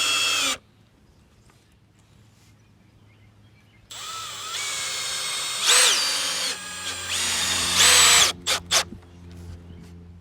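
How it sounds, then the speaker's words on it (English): A power drill drives deck screws into wood during a chicken coop build, with loud whining bursts of several seconds each, then a run of short rapid trigger pulses near the end, separated by quiet gaps. "We'll come back later and we'll drill through the board and the post"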